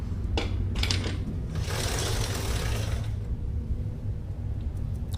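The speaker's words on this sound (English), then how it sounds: "The noise you're hearing is that because that chain is in desperate need of a little bit of maintenance and attention." The chain of a Suzuki GSXR 600 motorcycle that badly needs maintenance, after a new Vortex sprocket install, gives a close, moderate mechanical clatter and whir with a louder grinding stretch in the middle.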